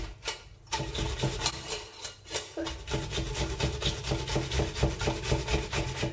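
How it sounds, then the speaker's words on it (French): Rhythmic rasping strokes of an onion being grated, a repeated scraping back and forth, close and fairly loud with brief pauses. "Je continue à râper l'oignon et je reviens avec vous."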